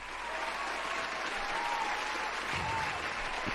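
Steady applause from a crowd, continuous and evenly loud from start to finish with no voices standing out.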